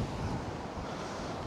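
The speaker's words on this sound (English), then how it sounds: "And look at the huge waves what are coming over." Huge waves crash on a rough sea at high tide on the Blackpool seafront in freezing winter weather, a loud continuous surging roar mixed with gusty wind buffeting the microphone, with no voices.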